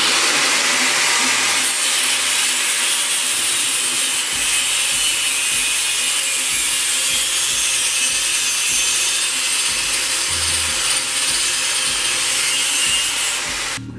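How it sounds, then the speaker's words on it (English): Continuous loud cutting on the engine mounting points of a Honda Del Sol, a harsh rasping saw or grinder noise running steadily and unbroken close by, with no talk. "I made the decision to just cut the mounting points here"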